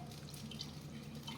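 Cold drinking water runs steadily from a tap or is poured into a cup at home, a continuous close splashing flow lasting about a second and a half with no talking.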